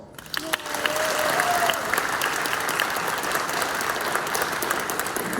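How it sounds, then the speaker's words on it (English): Audience in a packed school cafeteria applauding a band at a spring concert, a loud sustained wash of clapping that carries through the whole stretch, with a faint whistle-like tone early on. "Pause for applause."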